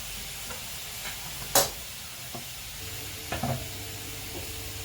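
Vegetables fry in oil, sizzling softly in a pan, broken by a few sharp clanks and a stirring scrape, with a brief hiss near the middle.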